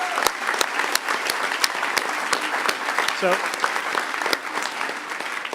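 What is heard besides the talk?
conference audience applauding the volunteers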